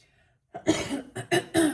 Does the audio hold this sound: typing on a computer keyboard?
no